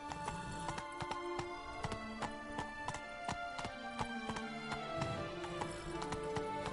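Roach, Geralt's horse in The Witcher 3: Blood and Wine, gallops in a steady rhythmic clip-clop of hooves over a continuous game music bed, with no talking.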